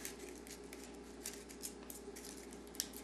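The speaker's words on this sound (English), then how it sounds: "take your scissors up towards the top and cut at an angle almost like you're going to cut it off" Close, quiet scissors snip and shear through folded paper for a kirigami Christmas tree, with soft repeated cutting crunches over a faint steady background hum.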